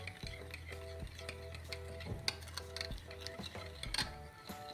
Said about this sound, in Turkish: Şekerimi ilave edeceğim ve yumurta akımı. ilave edip çırpıyorum.